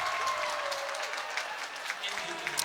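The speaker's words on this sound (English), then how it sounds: "the crowd is erupting for zeros across the board" Crowd at a high school boys swim and dive meet, applauding and cheering during the diving portion. Steady clapping and cheering are heard, with an announcer talking over them throughout.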